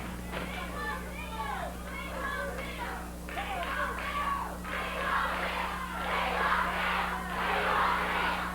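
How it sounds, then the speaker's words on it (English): A Memphis TV wrestling crowd hollers in rhythmic chanting bursts, a mass of voices rising and falling in repeated waves that grow louder and fuller toward the end, over a steady low hum. "Crowd hollered, "We want Bill.""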